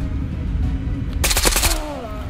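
A short burst of rapid gunfire kills a scav in the virtual-reality shooter Ghost of Tabor, loud and close, with several quick shots packed into about half a second and game ambience around it.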